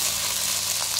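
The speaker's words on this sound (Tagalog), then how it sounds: "igigisa na natin ang ating sibuyas. Ayan. Of course guys, igigisa dito sa oil." Onions sautéing in hot oil for pork giniling, a steady dense sizzle and crackle filling the clip continuously and close up, with no talk over it.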